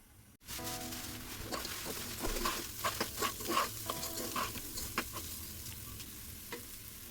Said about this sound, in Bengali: চাউলগুলোকে ভাজা ভাজা করে নিচ্ছি।